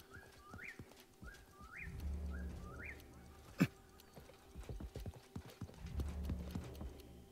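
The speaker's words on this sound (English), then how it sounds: "I can hear his footsteps, like, really loud." Footsteps in the Realm Royale battle royale game, heard as clip-clop hoofbeats of a mount, loud and close, repeating in a steady rhythm under occasional whistle-like game effects and a sharp hit.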